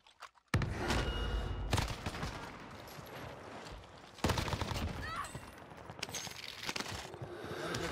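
Bursts of rapid gunfire in the shooter game Warzone Pacific, loud and close, with sharp volleys starting abruptly and continuing in dense clusters.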